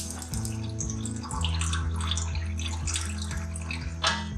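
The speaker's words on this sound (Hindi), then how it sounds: "थोड़ा सा पानी शामिल किया है और उसको अच्छी तरह निथार लेंगे पानी को" Water strained and poured off a thick beef nahari masala in a home kitchen, a steady close trickle lasting throughout with a brief louder splash near the end.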